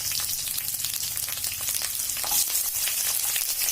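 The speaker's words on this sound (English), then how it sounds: "I'm going to throw in my curry leaves and the big chopped onions" Curry leaves and big chunks of chopped onion hit smoking-hot oil for garlic bhindi do pyaza, giving a loud, steady, close-up sizzle that holds without a break for the whole stretch.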